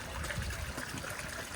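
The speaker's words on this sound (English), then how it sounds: "let's see right there, we're adding a little bit more water" Water being added to a koi pond during winter preparation, a continuous close trickling and splashing flow that stays steady throughout.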